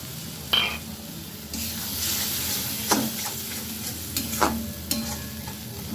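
Masala with tomato paste stir-fried in a pan: continuous frying sizzle broken by repeated scraping strokes of a spoon or spatula, close and moderately loud, with no talking.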